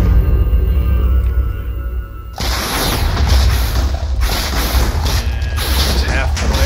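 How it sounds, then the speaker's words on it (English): A Wither explodes in the Minecraft video game, a sudden loud boom that bursts in mid-clip and gives way to rumbling, crackling blast noise that continues to the end. "Come on, explode."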